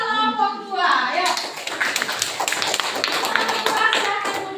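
A classroom group claps for a presenting group in a lively burst of applause. Rapid overlapping hand claps build quickly after a short stretch of voices, then continue densely and loudly to the end, with faint children's chatter mixed in.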